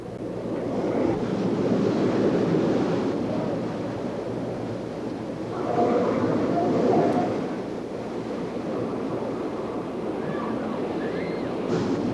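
Staged flash flood at a Hollywood studio tour attraction in 1986, with 10,000 gallons of water released from huge hilltop tanks; a steady, loud rushing roar of water with surges, no talk.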